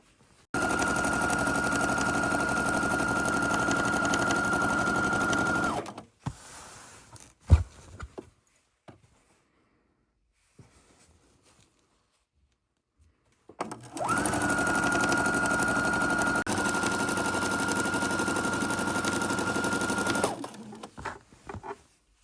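A sewing machine stitching a 1.5 inch strip onto a quilt runs in two long steady bursts of rapid mechanical whirring and clatter, close and loud, separated by a quiet gap with a few handling clicks and rustles.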